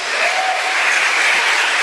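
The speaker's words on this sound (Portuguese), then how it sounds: "Aplauda o Senhor porque Ele age hoje." A congregation at a church service claps steadily, a continuous, loud wash of applause from many hands with no talk over it.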